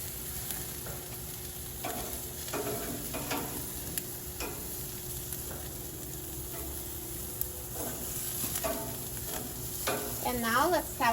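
Boneless chicken thighs sizzle on a hot grill in a steady, close hiss, with occasional tong clicks and scrapes as the pieces are moved, and a brief louder burst at the end.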